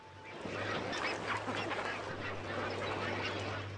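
A noisy flock of flamingos at Atlanta Zoo calls over one another in a continuous, squabbling chatter of honks and squawks, moderately distant.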